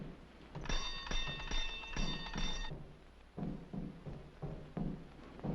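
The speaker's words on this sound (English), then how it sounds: "You ring the bell." A doorbell rung at the door of a house in a 1941 zombie film: bright, ringing tones in two bursts over the first half, followed by softer thumps and shuffling movement.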